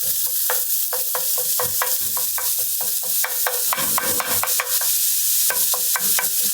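Browned meat crumble being mixed and mashed in a frying pan, a rapid rhythmic series of close spatula taps and scrapes over a constant sizzle, with no speech.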